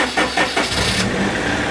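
An engine turns over in a few quick cranks and catches, settling into a steady mid-pitched idle close by, with no talking over it.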